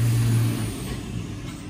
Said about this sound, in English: FedEx truck.